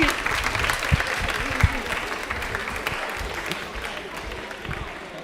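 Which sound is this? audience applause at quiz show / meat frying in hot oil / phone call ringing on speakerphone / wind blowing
audience applause at quiz show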